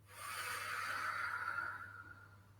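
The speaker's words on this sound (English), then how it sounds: "we're going to breathe in through the nose, nice and easy, not forcing anything" One slow, easy inhale through the nose during a shiatsu breathing exercise: a soft, close airy hiss that swells and then fades away, with no talking over it.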